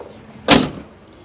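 A door on a 1988-98 Chevrolet Suburban swings shut with a single solid thunk close by, with quiet surroundings before and after.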